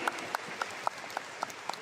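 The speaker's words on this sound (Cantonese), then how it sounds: "借到大家掌聲" A small audience at a leadership training meeting clapping, a brief patter of individual claps, sparse and rhythmic rather than a roaring ovation.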